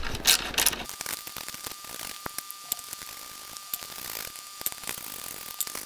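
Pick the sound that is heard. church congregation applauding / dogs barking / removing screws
removing screws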